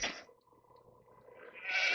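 Sheep bleating in Age of Empires: two short bleats, one at the start and one at the end, with near-silence between them.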